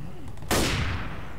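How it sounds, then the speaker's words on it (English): A single sniper rifle shot in Left 4 Dead rings out close and loud after quiet game ambience, its blast rolling off into a long echoing tail. "let me try the sniper rifle because I haven't tried it out yet"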